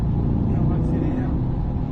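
A Corvette C8 accelerates on a race track, its engine a loud, steady, dense roar held close throughout, with a voice speaking over it.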